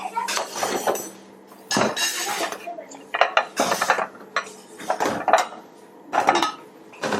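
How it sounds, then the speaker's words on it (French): Dishes, a spoon, a pot and a tray are cleared from a table in a home kitchen, giving a series of close clinks and clatters of crockery and cutlery in irregular bursts, with short gaps between them. "on débarrasse, on enlève la cuillère"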